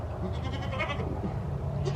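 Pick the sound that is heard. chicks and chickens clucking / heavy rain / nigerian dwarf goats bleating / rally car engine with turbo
nigerian dwarf goats bleating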